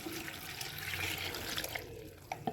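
Half a liter of water streams from a container into a blender jug, a brief, quiet splashing pour that lasts a couple of seconds with a few small clinks at the end.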